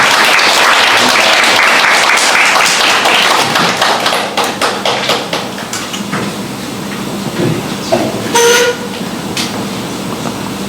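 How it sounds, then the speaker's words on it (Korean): An audience at a talk applauds in a dense burst of clapping that thins out into scattered claps and thumps as it fades over several seconds. "국민들 박수 한번."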